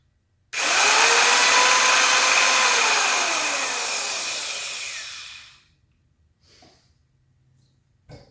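A Tacklife TCS115A compact circular saw, bevel and depth locked, runs alone for about five seconds with a loud, steady whine that slowly sags in pitch as it winds down, followed by near silence and a few faint clicks.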